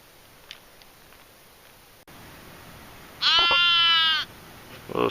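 A sheep bleats once, a clear, loud, wavering cry of about a second, just outside a mountain camp in the Cordillera Huayhuash, against faint steady background hiss.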